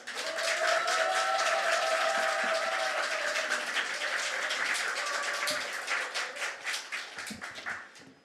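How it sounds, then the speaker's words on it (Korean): A church congregation applauds to welcome a missionary, a dense, sustained wash of many hands clapping that holds steady for several seconds before breaking into scattered claps as it tapers off. "우리 사모하는 마음을 담아서 우리 선교사님 나오실 때 크게 박수 한번 할까요?"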